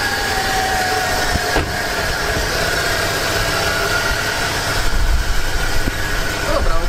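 BMW E46 engine idling unevenly, a steady mid-pitched running drone with slight fluctuations, close by and continuous throughout, with no clear speech over it.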